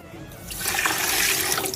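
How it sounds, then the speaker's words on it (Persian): Water pours into a pot of sugar to make syrup for a rice-based sweet, a steady close rushing stream that swells after the first half-second and runs on without pause. "شکر رو اضافه میکنیم به اضافه 2 لیوان آب"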